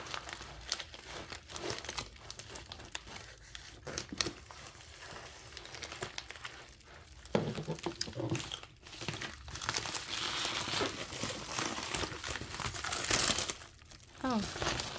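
A strong paper envelope is cut and pulled open, producing faint crinkling, rustling and tearing sounds in irregular bursts, with occasional quiet speech nearby.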